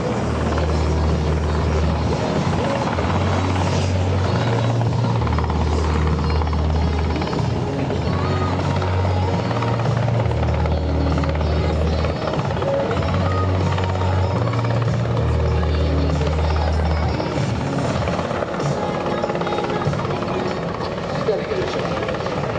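An MH-60S Knighthawk helicopter flies a search-and-rescue demonstration at the NAS Patuxent River air show, its rotor thumping in a steady, pulsing rhythm close by and loud throughout, with crowd or announcer voices underneath.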